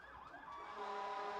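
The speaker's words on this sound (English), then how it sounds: "Towson ambulance coming by as we go" A Towson ambulance siren wails past near a high school football game, its rising and falling tones growing steadily louder over the short span.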